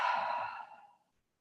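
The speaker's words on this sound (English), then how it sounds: "Maybe an exhale through the mouth." A single slow breath pushed out through the mouth during a yoga session, loud and close at first, then tapering off into silence after about a second.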